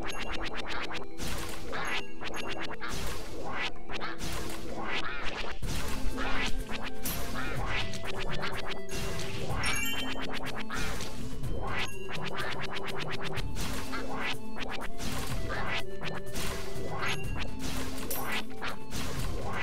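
Video game Gryphon Knight plays a busy stream of duck quacks mixed with sharp whacks, crashes and swishes, repeating rapidly and loudly over a steady music-like background, with no talking.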